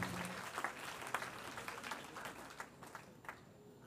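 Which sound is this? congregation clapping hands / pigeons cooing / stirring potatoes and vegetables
congregation clapping hands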